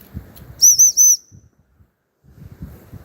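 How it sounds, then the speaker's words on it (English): A dog whistle is blown in a Devon woodland on a dog walk: three short, high, piercing blasts in quick succession, loud and close, with faint rustling footsteps before and after. "fingers in your ears while I use the whistle"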